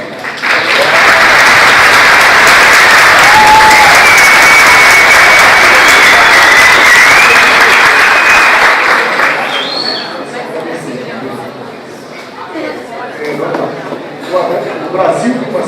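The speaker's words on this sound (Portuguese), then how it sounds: "já uma salva de palmas" A crowd at a university administration conference applauds loudly and steadily for about ten seconds, then the clapping thins out into scattered claps and murmuring voices.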